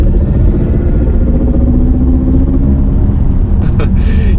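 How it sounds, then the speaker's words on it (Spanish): A 2023 Mercedes EQE 350+ electric car accelerates hard with a loud, droning synthetic hum, like a spaceship, over heavy road rumble. "es el sonido de una nave espacial, como corresponde a un coche eléctrico"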